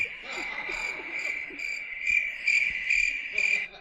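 Cricket chirping outdoors near a Pasadena sidewalk, a steady high pulsing trill repeating in regular bursts, fairly close and clear, with faint low background noise and no talk.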